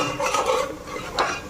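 A utensil stirs spices frying in mustard oil in a pan, giving a brief soft scraping and light sizzle with a small clink near the end.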